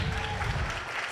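Audience applause at a circular economy startup demo day, a short dense burst of clapping from a crowd, steady and fairly loud for about a second.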